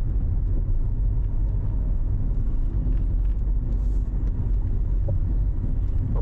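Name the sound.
motorized tricycle engine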